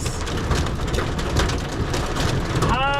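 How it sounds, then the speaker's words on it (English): Hail hammering a truck during an Oklahoma tornado chase storm, a dense, loud, continuous rattling clatter on the metal, with a brief whine at the end. "Hide from this hail."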